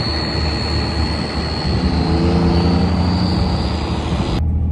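2nd gen Cummins 5.9 diesel truck with a Fleece Cheetah turbo coasting downhill in gear, a loud steady rumble under a sustained high turbo whistle, cutting off abruptly at the end.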